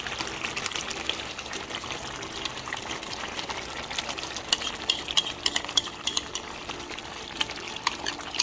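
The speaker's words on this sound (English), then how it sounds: "this is when we can add the yogurt in that, and that's what we're going to do" Yogurt stirred into a simmering chicken karahi in a pan: continuous wet sizzling and bubbling with soft scraping and stirring, steady throughout and a little louder toward the end.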